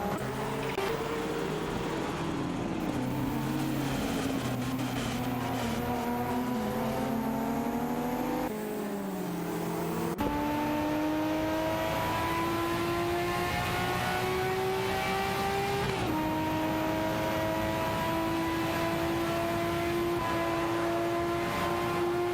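Simulated race cars, a Mercedes-Benz 190 Evo against a BMW M3, drone steadily with engines revving and shifting through gears, pitch climbing and resetting several times in a continuous loud engine roar.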